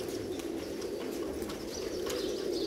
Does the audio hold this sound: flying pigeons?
yes